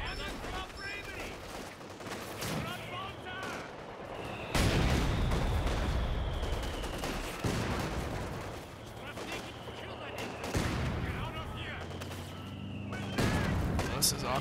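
Mortar and artillery fire in a Company of Heroes tank battle, with heavy booming impacts and rattling gunfire throughout, a falling whistle of incoming shells, and voices talking over the din.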